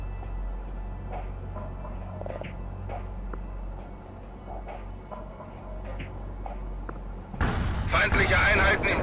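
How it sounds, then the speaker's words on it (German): An artillery barrage in the PC strategy game World in Conflict, a burst of loud booming impacts breaking in abruptly at the end after a stretch of low rumble and scattered faint game sounds. "Artilleriesperrfeuer im Anflug."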